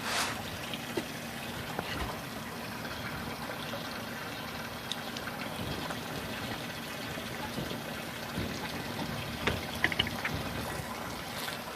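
Water poured over a moringa tree in a garden, a steady trickling and splashing that runs continuously and fairly quietly, with a few brief knocks.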